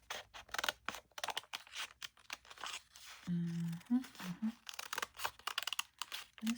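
Scissors snip and crinkle through planner paper close by, with a few sharp cuts and light paper rustling; no one speaks.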